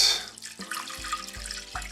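Water poured close by into a tray or saucer to bottom-water a freshly repotted fern, a steady splashing trickle lasting under two seconds with soft knocks of the container, no voices.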